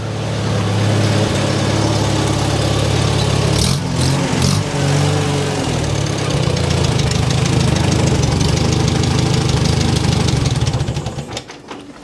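A Farmall Super A tractor engine idling steadily after an oil change, a loud, close, rhythmic chugging with a brief change in pitch partway through before it winds down at the end.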